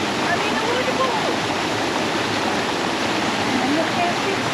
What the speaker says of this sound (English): I mean, a waterfall.